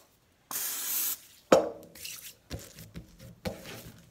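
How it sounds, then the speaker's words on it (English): Cooking oil sprayed from a can into a hand while shaping Filipino pandesal dough, a loud hissing burst of about half a second, followed by soft squishing and handling sounds in a kitchen. "I'll spray a little bit of oil in my hand."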